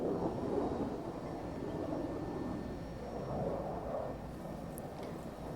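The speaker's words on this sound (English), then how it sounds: "you can hear the F-35s here" F-35 jets fly over in the strategy game Humankind, making a faint, distant rumbling roar that swells and fades gently with no voices over it.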